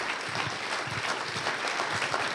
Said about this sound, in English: let's give a round of applause to our honorees for the Doing Right Spotlight 2025